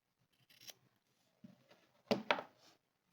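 Scissors snip through macrame cord in a few short, crisp cuts, quiet and close, with brief rustles of handling in between and no talking.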